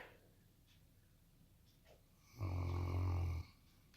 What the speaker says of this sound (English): If you heard some snoring while I was making the bread, she's the culprit right there.